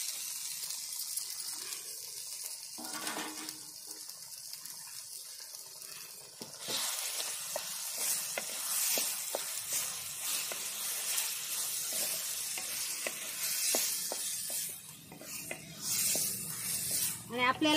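Fried prawns tipped into a simmering masala gravy for kolambi masala, sizzling steadily with sharp scraping clicks from stirring throughout; noise grows busier partway through as the prawns hit the pan.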